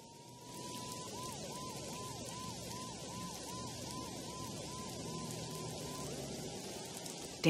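A police siren in the video game Max Payne 2 wails in steady repeated up-and-down sweeps over a constant hiss of background noise, then cuts off near the end.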